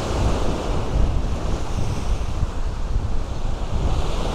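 Rough ocean surf pounding the shore at Bay Ridge, Brooklyn, in heavy wind and fog, a loud continuous roar of breaking waves with steady wind buffeting the microphone.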